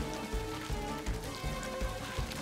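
Steady rain in Super Mario Odyssey patters on a surface, a dense continuous hiss with soft low thumps recurring underneath, moderately quiet and without voices.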